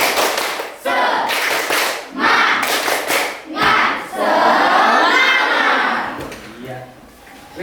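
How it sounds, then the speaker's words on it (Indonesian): Group of schoolchildren in a classroom performing a spirited clapping cheer led by a pupil at the front, with bursts of rhythmic hand claps and loud shouted chanting in several phrases, close and lively. "Sekarang mari kita lakukan yel atau tepuk semangat."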